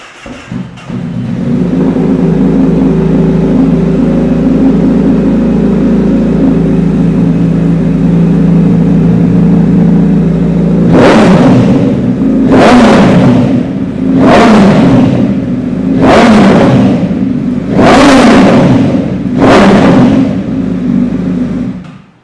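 A sport motorcycle engine idles steadily, then revs hard in six sharp bursts toward the end, loud and close with no talking.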